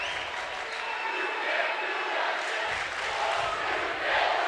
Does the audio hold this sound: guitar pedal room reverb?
no